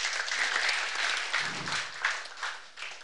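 Enthusiastic audience applause fills a church healing service, steady dense clapping from a crowd that swells and ebbs for a few seconds without any voices over it.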